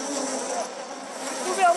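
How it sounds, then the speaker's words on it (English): Swarm of bees in the Amazon rainforest buzzing thickly around people, a close, continuous droning hum that swells slightly toward the end. "The bees get into everything, even under the hood of our cameraman, Eric, and into his ears"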